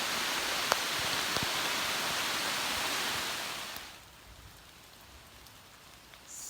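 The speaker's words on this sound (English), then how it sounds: "It is absolutely pouring down rain." Heavy rain pours down on a mountain hike in the Great Smoky Mountains (Big Creek area). A loud, hissing downpour fills the first part, then abruptly drops to a much quieter patter.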